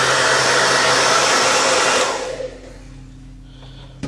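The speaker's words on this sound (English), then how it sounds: "Just grab my hairdryer and put it on cold" A hair dryer on its coldest setting blows dust off a graphics card, a loud steady rushing whoosh for about two seconds before it switches off, leaving a faint hum and a small clatter.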